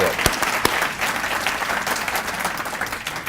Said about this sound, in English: Give them a big round of applause for their support.